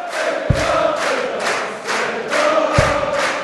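A German Darts Masters 2014 arena crowd chants and sings in a steady rhythmic pulse of massed voices, loud and reverberant, with a couple of dull thuds cutting through.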